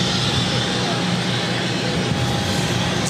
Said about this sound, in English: This is Delta Airlines 2357 taking off to Washington Reagan National on the A319.